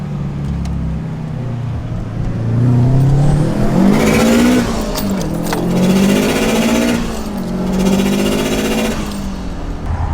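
Group of cars leaving a Cars and Coffee meet together, engines revving and accelerating close by, rising and falling across several gear changes, with other vehicles idling around.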